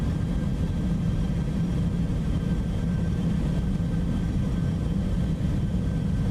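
A steady, unbroken low drone from the jet engine of a Toliss Airbus A321ceo in a flight simulator, heard in flight with no voices.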